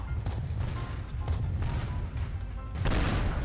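Gunfire and bomb blasts from the destruction game Teardown, played with a Thanos mod smashing cars, come as several broad, booming bursts over a continuous rumbling background.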